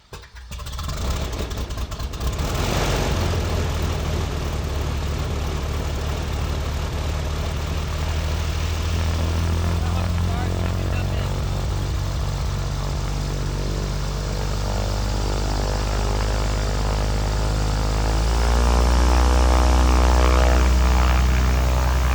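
A propeller aircraft engine cranks and catches, then settles into a steady rumbling warm-up, rising in power near the end, close and loud before an airshow display.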